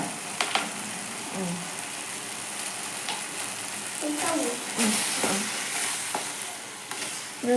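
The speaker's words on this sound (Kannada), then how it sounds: "ಶೇಂಗಾ ಕಾಳು ಈಗ ಹಾಕ್ತೀವಿ ನೋಡ್ರಿ ನಾವು" Peanuts are stir-fried in a hot pan: a close, steady sizzle with repeated scraping stir strokes and occasional louder clatters, with some talking in the background.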